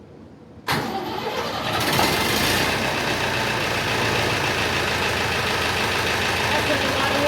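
A David Brown 990 tractor's diesel engine starts with a sharp crank and catches, then settles into a steady, loud, close idle that runs on to the end.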